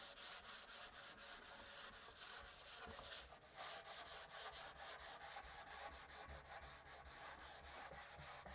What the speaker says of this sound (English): Then it says to sand it with some 400 grit before applying the second coat.